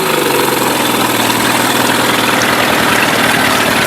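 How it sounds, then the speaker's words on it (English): A Mercury 8HP outboard engine revs steadily in neutral, a loud continuous drone with a low idling rumble and vibration that holds even throughout, alone with no voices. "Something to make it rev while it's in neutral."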